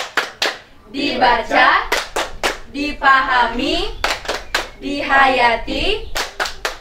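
A group claps hands together in a rhythmic, call-and-response routine during a Sunday Bible-week activity. Bursts of clapping alternate with speech, as several voices chant and talk between and over the claps.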